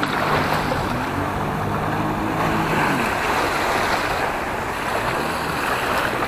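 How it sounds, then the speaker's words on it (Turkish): A jet ski speeds across the open sea off a Bartın beach, heard as a steady, loud engine drone mixed with wind and surf noise across the whole stretch, with no talk. "Jet ski."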